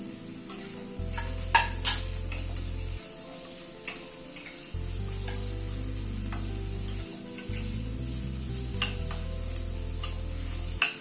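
Carrots are added to a pan and stirred for a one-pot vegetable meal: a soft sizzle with repeated spatula taps and scrapes over light background music.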